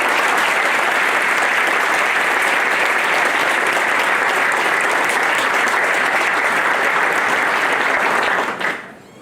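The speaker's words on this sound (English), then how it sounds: "So can we have a big round of applause for ourselves?" A large audience at an MBA orientation programme gives a loud, dense round of applause in a hall that holds steady for several seconds, then quickly dies away at the end.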